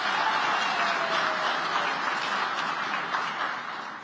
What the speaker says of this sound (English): we need another applause